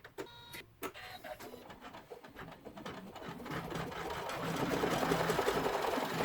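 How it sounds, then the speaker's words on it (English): An embroidery machine sewing decorative stitching on an in-the-hoop zipper bag with vinyl, a close, rapid mechanical whirring and buzzing that starts after a few clicks and grows steadier and louder. "we are up to our decorative stitching"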